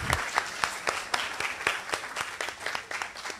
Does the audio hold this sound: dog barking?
no